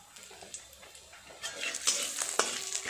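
Whole spices, one chilli and a bay leaf crackle in hot oil for a chicken curry, giving soft, close sizzling and stirring that turns busier and louder toward the end, with scattered spatula knocks.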